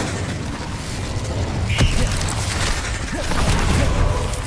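Incendio fire spell cast in the video game Hogwarts Legacy: a dense roaring burst with a sharp flare near the middle, set within continuous loud rumbling game noise, no talking.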